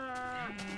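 An animal bleat from a farming video game, a single drawn-out harmonic call from a sheep that lasts under a second and dips in pitch midway, loud and close with no talk over it.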